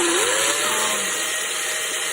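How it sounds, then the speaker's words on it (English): A screw being backed out of a PVC conduit strap on outdoor conduit, with a steady whirring drive sound and a rising whine near the start, continuous and close for about two seconds. "look closely right here at how I'm backing off this screw on the strap"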